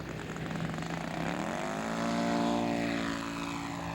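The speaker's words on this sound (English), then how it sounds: "That's Dick on a touch and go." A radio-controlled scale airplane doing a touch and go at Rocket City Airport in Huntsville, Alabama, its steady engine drone swelling as it passes close by, with a shifting pitch and no talking.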